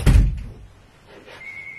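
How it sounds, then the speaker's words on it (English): A door shut once at the start with a loud, close thud, followed by quiet room tone and a faint high electronic tone near the end. "Hang on, I'll shut the door."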